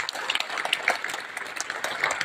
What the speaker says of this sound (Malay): Marilah kita bagi satu tepukan yang gemuruh bagi kita.